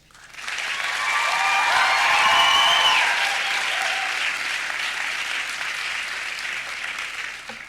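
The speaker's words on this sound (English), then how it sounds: "give an enthusiastic round of applause to their families, friends, and teachers" A commencement crowd breaks into enthusiastic applause that swells quickly, peaks with a few whistles and cheers, then holds at a strong level before tapering slightly.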